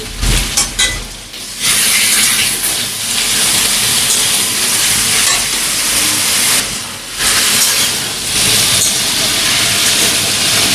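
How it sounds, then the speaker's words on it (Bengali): Chunks of taro hit hot mustard oil in a village kitchen and set off a loud, continuous sizzling hiss. The hiss dips briefly a couple of times, then surges back and fills the whole stretch. "তেল গরম হয়ে গেলে আমরা এবার কচুটা দিয়ে দেবো।"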